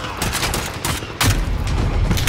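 Rapid bursts of video game gunfire from a Hardcore Shipment match with the X-16 pistol, sharp repeated shots across the whole stretch with a louder, denser volley toward the end.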